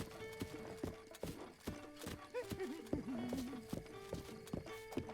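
Horse hooves clip-clop in a steady, fairly close rhythm in Zelda: Breath of the Wild, with a brief whinny partway through and game music tones behind.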